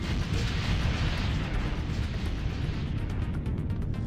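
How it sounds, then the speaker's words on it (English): Missile racks fire in the Starsector space combat game. A dense, continuous roar of launches and blasts carries at moderate volume throughout, with no talk. "So cool missile launch sounds."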